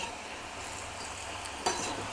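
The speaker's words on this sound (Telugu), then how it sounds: "ఈ ఆయిల్లోనే కొంచెం ఆయిల్ తీసేయాలండి దీంట్లోనే ఫ్రై చేయాలి బాగా" Bitter gourd pieces frying in oil in a pan, a steady close sizzle throughout with a brief stirring scrape near the end, no voices.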